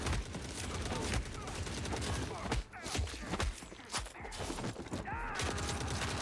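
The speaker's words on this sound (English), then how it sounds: "He's still shooting." Gunfire in the war game The Forever Winter, dense overlapping shots and rattling bursts in a loud battlefield din, continuing throughout with scattered impacts.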